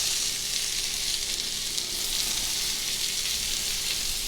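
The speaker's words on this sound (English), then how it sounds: "I'm going to throw in the caramelized onions." Caramelized onions and garlic sizzle in a pan on the stovetop, a steady, close frying hiss with a faint stir, no voices over it.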